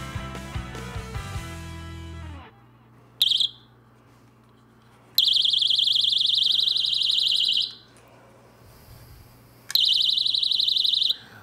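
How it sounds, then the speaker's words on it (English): A GlassGuard window vibration alarm, battery powered, blares a loud, piercing electronic shriek in several sustained bursts separated by pauses, following a brief stretch of other sound at the start. "that's the GlassGuard vibration alarm"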